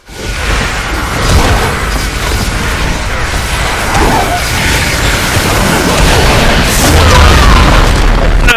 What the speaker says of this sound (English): But I did manage to get the bomb off.